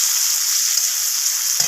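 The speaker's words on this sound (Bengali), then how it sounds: "তো পেঁয়াজটাকে একটু রং ধরা পর্যন্ত আমি ভেজে নেব।" Sliced onion fries in hot oil with spices for a mutton dish, a steady bright hiss of sizzling close up, with a few faint stirring knocks and no talk.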